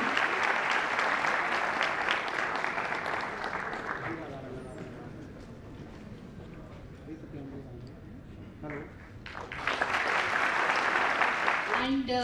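An audience at a civil services seminar gives a hearty round of applause welcoming a speaker to the stage, loud clapping that fades midway and then swells again, with a voice speaking over it.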